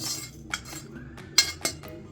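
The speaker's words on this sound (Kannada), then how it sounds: "ಈಗ ಹುರಿದಿರೋಂಥದ್ದನ್ನ ಒಂದು ಪ್ಲೇಟ್ಗೆ ಟ್ರಾನ್ಸ್ಫರ್ ಮಾಡ್ಕೊತಾ ಇದ್ದೀನಿ" Utensils clink against a plate while fried ingredients for green chicken gravy are moved onto it: a few sharp, bright metallic taps spaced irregularly over a quiet kitchen background, with no talking.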